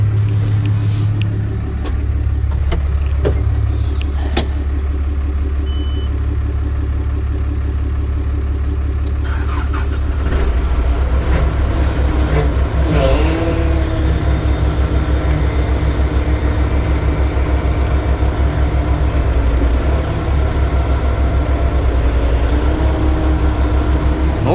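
A CAT TH460B telehandler with a newly replaced hydraulic pump runs at close range, its diesel engine giving a loud, steady rumble with a deep low throb, a few clanks early on and a rising rev partway through.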